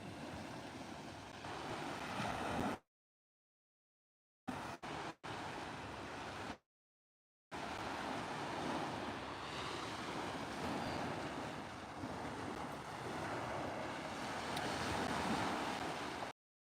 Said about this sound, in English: We'll be able to hear the waves.